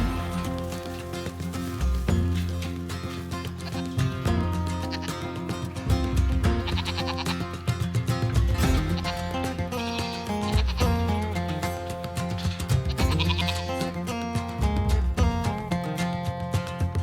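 Goats penned in a barn bleat almost constantly and loudly, many wavering calls from close by overlapping one another with barely a pause.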